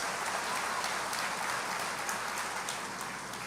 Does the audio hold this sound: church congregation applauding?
yes